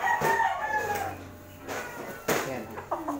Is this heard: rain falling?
no